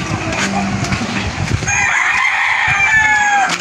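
A rooster crows loudly and close by on a rural Filipino farm, a long drawn-out call in the second half after clucking and outdoor background noise.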